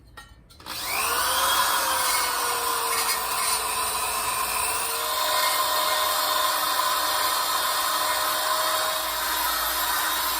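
Abrasive, rubbing power-tool whine from a wire brush scouring rust out of the window regulator channel of a 1968 Firebird, steady and loud close up for about ten seconds after a brief quiet start, with no talking.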